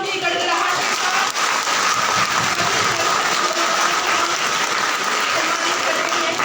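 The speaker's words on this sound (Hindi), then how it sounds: "और एक बार फिर से तालियों की गड़गड़ाहट के साथ" Loud, dense applause from an agri-fest festival audience at a government horticulture event, sustained steadily and evenly throughout with no pauses.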